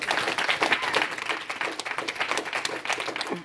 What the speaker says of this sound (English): Can we clap it up for all of our educators